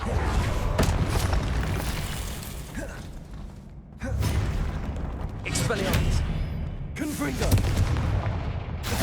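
A spell effect from the Hogwarts Legacy video game sounds as booming, crackling blasts and whooshes over a dense bed of game sound, with several loud bursts in a row.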